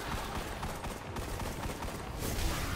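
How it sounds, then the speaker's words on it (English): Rapid pistol fire at a boss in Destiny: The Taken King, a dense run of sharp shots over busy game noise, steady and close for the whole stretch and swelling slightly near the end. "I'm just gonna use the little pistol on him"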